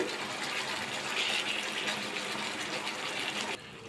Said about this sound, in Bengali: এবার অল্প করে জল দিয়ে দেবো, বেশি কিন্তু জল দেবো না।